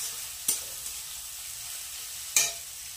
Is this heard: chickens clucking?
no